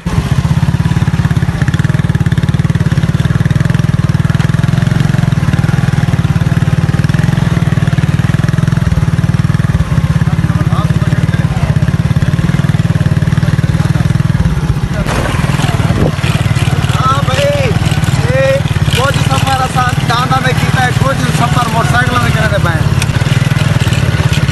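A motorcycle engine runs steadily and loud throughout, with a strong low hum and some revving near the end, while people talk over it.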